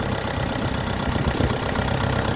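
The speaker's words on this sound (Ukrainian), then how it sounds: "Тестуємо. Чотирьохциліндровий каємовський двигун" A Jinma 404 tractor with a cab and a four-cylinder engine idles steadily with a low, even rumble, heard close and alone.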